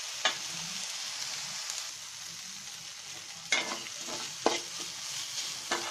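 Coriander leaves cook quietly in a pan over low heat with a soft continuous sizzle, broken by a few clinks and scrapes of a spatula.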